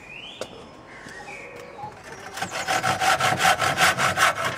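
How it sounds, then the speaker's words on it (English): Hand-sawing or rasping the ends of wooden uprights for a traditional pole lathe, a steady rhythmic back-and-forth stroke that starts midway and grows louder, with a few earlier knocks and birds cooing faintly in the background. "I'm just rounding off the ends so that when one's travelling around with them, they don't sort of cut into things"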